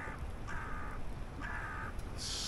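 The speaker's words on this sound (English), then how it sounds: "you can hear we've got a noisy crow or rook. I think it's actually a rook" A rook calls outdoors in Killin, Scotland: two harsh, drawn-out caws spaced about a second apart, moderately distant, over steady wind and ambient hiss, with a brief higher burst near the end.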